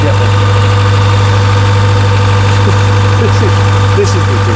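A car engine idles steadily in freezing winter cold, a loud constant low hum with faint knocking, while a voice talks over it.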